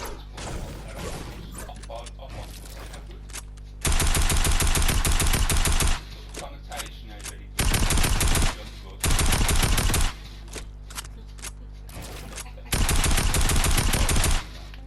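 Bursts of rapid automatic gunfire in a shooter video game fire in several sustained volleys, loud and close, separated by quieter stretches of game sounds and clatter.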